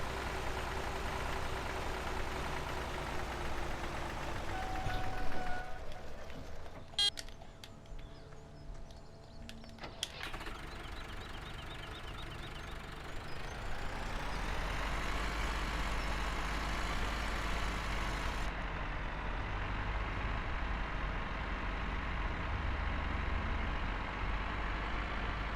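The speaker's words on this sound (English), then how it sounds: "It's a nice knock in the engine." Vintage 72-horsepower tractor in Farming Simulator 17 runs with a knocking engine, a steady low mechanical drone that holds for the whole stretch, loud and close, with a brief rougher, clattery patch partway through.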